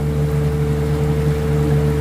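A new 10hp Evinrude outboard engine drives a pontoon boat, giving a steady, loud, unbroken hum close by, with no voices.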